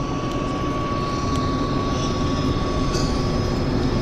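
A floatplane takes off from Vancouver Harbour, its engine a steady, broad drone holding level throughout at moderate distance, with faint wind and harbour ambience and no talk.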